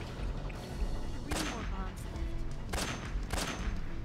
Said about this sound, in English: Okay, you gotta shoot this one first.